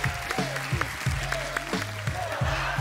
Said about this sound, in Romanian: Aplauze, aplauze!